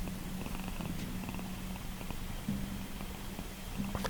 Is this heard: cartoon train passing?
no